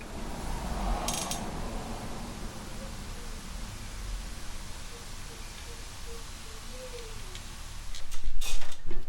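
A wheel comes off a Chrysler 300S Hemi in a workshop, with a steady mechanical whir of ratcheting and clicking under a noisy background. A louder burst of tool noise rises near the end.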